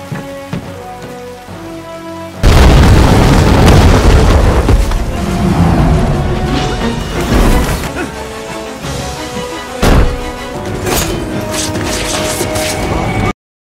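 A heavy explosion bursts in suddenly as a door is blown open, followed by sustained crackling, rumbling debris and scattered sharp pops, with a second thump later on.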